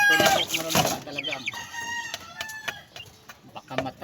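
A chicken held in someone's hands clucks and squawks in short bursts, close and loud at first then intermittent, with a few sharp cackles near the end.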